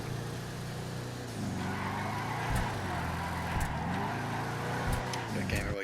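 A car engine in a racing video game drones and revs steadily as the car drives and tries to drift, with pitch shifts as the throttle changes and a few faint tire or impact ticks.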